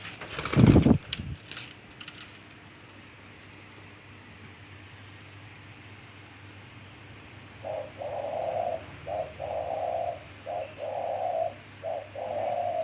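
Caged pet doves coo close to the microphone in a steady run of repeated, rhythmic phrases with short gaps, after a single sharp knock near the start and a quiet stretch.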